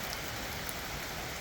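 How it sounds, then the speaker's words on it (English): Steady rain falls outdoors as an even, continuous patter with no other sounds over it. "It's raining."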